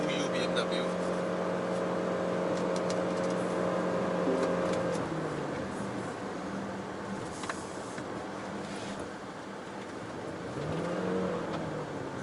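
A Chery Omoda car accelerating to overtake a BMW, its engine droning steadily from inside the cabin and then easing off, with a voice talking over it.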